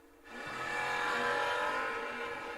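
Drag racing cars roaring down the strip at a world championship event, a small blue Mustang among them, as a loud, steady engine roar builds quickly and holds, with a faint tire squeal in the mix.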